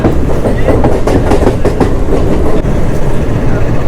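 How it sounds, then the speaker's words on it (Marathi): Loud rhythmic clatter of wheels over rail joints as a Diva–Roha MEMU train departs in heavy rain, with a constant rumbling underneath. "एक मिनटच थांबली ट्रेन आणि निघाली ट्रेन"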